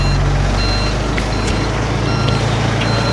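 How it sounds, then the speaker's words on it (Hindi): A truck backing up toward a petrol pump at night sounds its reversing alarm, regular loud beeps repeating over a steady low engine rumble, with no one talking. "ये गाड़ी बैक करके पेट्रोल पंप पे लेके जाएंगे पीछे चढ़ा के।"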